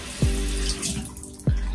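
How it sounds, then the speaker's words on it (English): A tap runs steadily into a sink to wet a hair brush, a close, continuous hiss of splashing water marked by two dull knocks. "I wet the brush and I just brush it."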